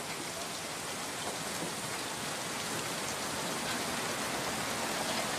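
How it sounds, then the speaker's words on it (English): Steady rain falls in an even, hissing patter, soft and continuous, with no voices. "The rain."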